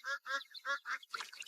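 Ducks on a farm with a flock of about three thousand quack close by in a quick run of five or six loud, nasal calls, with a rougher burst of calls at the end and no talk.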